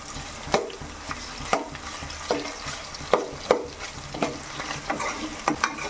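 Ginger garlic paste frying and being stirred in a pan for a cauliflower and brinjal curry, with steady sizzling and repeated scraping strokes of a spoon about twice a second, close and moderately loud, no talking.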